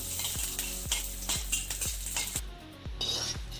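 Spices crackle and sizzle in hot oil for a tempering poured into ginger rasam, while a metal spoon repeatedly clinks and scrapes against the pan in an uneven rhythm, close up.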